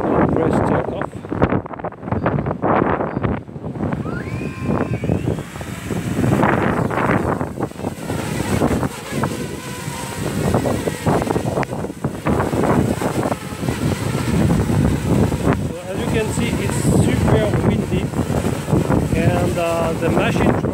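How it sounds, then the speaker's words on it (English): Strong wind gusts buffet the microphone near a small drone on a demo flight, a loud, rough, fluttering roar that surges and drops continuously throughout. "but it's pretty windy"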